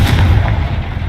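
Confringo spell blast in the Hogwarts Legacy video game, a single short heavy boom with a deep rumbling low end, loud and close.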